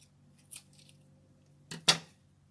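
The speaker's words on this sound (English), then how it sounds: "I am going to cut off the excess right here." Scissors snipping off excess ribbon while making a two-tone boutique bow, a faint close click followed by a sharper double snip near the end in an otherwise quiet room.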